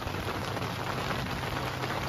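Rain falling steadily outdoors at a rainy-day pizza gathering in Itu, a dense, even hiss of drops pattering on surfaces, fairly soft and continuous with no speech.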